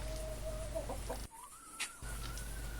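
Chickens cluck inside a henhouse on a Portuguese smallholding, with faint, scattered clucks over a steady low hum and a brief quieter gap midway.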